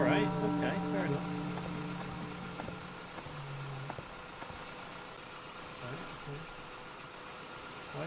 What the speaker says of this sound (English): Why is the car engine still running?